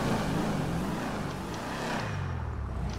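A Mustang engine drives in GTA 5 with a loud, steady, deep rumble close up that eases slightly near the end, and no voices over it.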